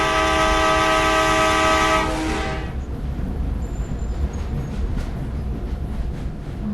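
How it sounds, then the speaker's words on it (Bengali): A train in a video game blasts a loud, sustained horn for about two seconds, then rumbles and clatters steadily as it rolls past. "গাইস ট্রেন যেতে ট্রেন যেতে দিই, ট্রেনে কোনো ডিস্টার্ব করি না"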